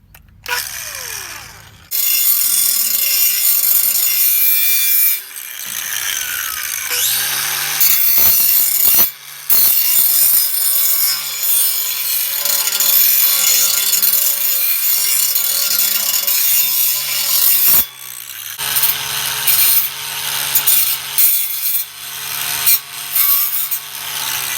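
An angle grinder cuts through the exhaust pipe of a Ford 6.0 Powerstroke diesel truck, a loud continuous abrasive shriek and rasp that stops briefly a few times and then restarts.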